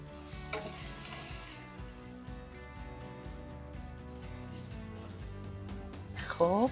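Chopped onions and herbs sizzle and fry in a pan for Persian celery stew, a steady crackling hiss with stirring scrapes throughout, and a brief rattle of the pan at the end.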